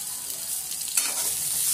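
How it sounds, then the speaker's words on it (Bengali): A medium onion fries in a spoonful of oil in a kadai, giving a close, steady sizzle that swells slightly partway through, with light stirring and no voices. "পেঁয়াজটাকে হালকা ভেজে এবং ওতেই আমি দিয়ে দিচ্ছি টমেটো।"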